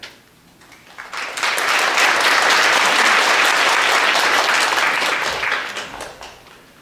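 A church congregation at a Sunday worship service applauds after a testimony. The clapping swells quickly into a loud, dense, sustained round, then fades out after several seconds.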